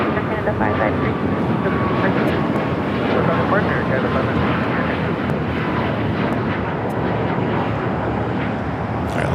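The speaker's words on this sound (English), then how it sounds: "we have the China Airlines A350 arriving on the north side" Airliner jet engines roar steadily and loudly at Los Angeles LAX airport as a plane passes close by, a dense continuous broadband rumble with no letup, heard alone without talk.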